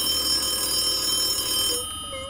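A phone call rings in the Farming Simulator 22 video game, a steady electronic ringing tone that holds for about two seconds and then cuts off, alone without speech.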